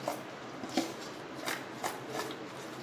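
Raw mango slices tossed by hand with salt and turmeric in a bowl, giving soft, dry shuffling and rustling bursts at a steady, unhurried rhythm, close and fairly quiet, with no talking.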